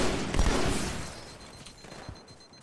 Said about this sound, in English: I really don't like burst fire.